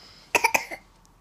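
A child with a cold coughs three times in quick succession, followed by a softer fourth cough, close and clear against a quiet room.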